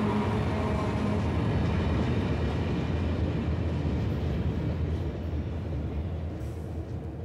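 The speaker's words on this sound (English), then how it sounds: "A scrap metal monster hiding another, smaller, tourist train." A small tourist train crosses the Mauritanian Sahara with a steady, heavy rolling rumble and rattle, close and constant, easing off slightly toward the end.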